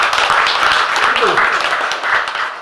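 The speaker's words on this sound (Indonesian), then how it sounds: "Kita kasih aplaus dulu" An audience at a campaign speech in East Lampung breaks into a steady wash of clapping, dense and fairly loud throughout, with voices mixed in.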